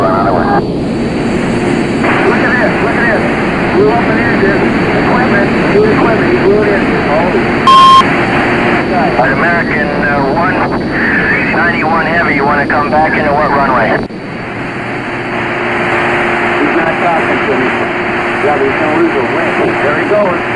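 Airplane engine drone in the flight game SimplePlanes runs continuously as a loud, steady roar with a short beep partway through, while a person talks over it; the engine tone shifts lower near the end.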